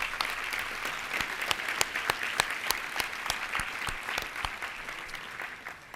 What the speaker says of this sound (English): Please, a warm round of applause for him.